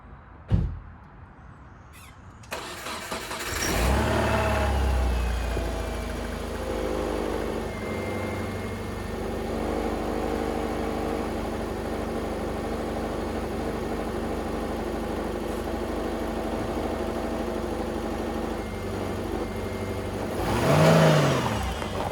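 A 2006 Saab 9-2X engine starts after a brief pause and runs steadily at a low idle for a long stretch, with a brief rise in revs near the end.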